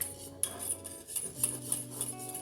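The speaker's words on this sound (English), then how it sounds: "Give that a whisk." A whisk clinks and scrapes around a metal pan while stirring parsley sauce for a fish pie, giving quick, close rhythmic taps and rattles over a short stretch.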